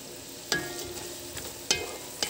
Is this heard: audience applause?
no